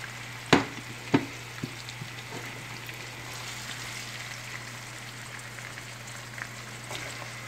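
Chopped onion and shallot in a pan, the start of a smoked herring and salt cod chiquetaille, give off a faint, quiet sizzle after two sharp knocks at the start, with a steady low hum underneath.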